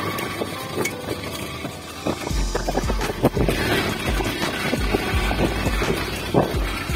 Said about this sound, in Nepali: हावा चाहिँ एकदम चल्छ यहाँ